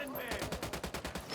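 Rapid automatic gunfire from the video game Tom Clancy's Ghost Recon Wildlands, a quick run of about a dozen evenly spaced shots in a short burst, fairly faint.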